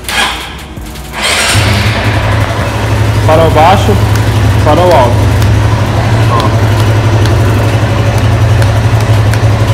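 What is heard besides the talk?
Honda Mix 150 motorcycle engine started and idling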